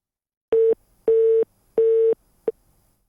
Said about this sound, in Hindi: लाइन ड्रॉप हो गई है।